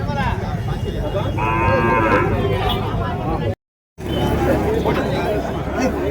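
Native cattle, including a plough pair of bullocks, low at a country cattle market in Matrapalli, with loud moos over crowd chatter and a brief dropout midway.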